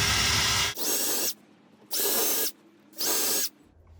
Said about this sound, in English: I'm gonna first drill just the front panel here from the inside